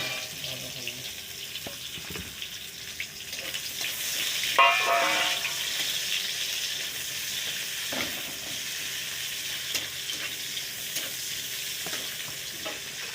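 Onions dropped into hot oil in a home kitchen sizzle and crackle steadily, with a brief louder burst of spitting as they hit the pan and stirring scrapes throughout.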